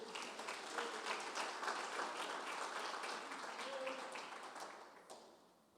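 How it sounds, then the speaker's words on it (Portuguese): Church congregation applauding the Lord during a Portuguese-language sermon, a broad, steady wash of many hands clapping that holds for several seconds and then fades away. "Você pode aplaudir o Senhor?"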